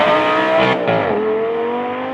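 A car fitted with a 5.2-litre V10 making 560 horsepower revs hard, a loud, close, sustained engine howl whose pitch dips briefly and then settles into a steady high drone, with no talking.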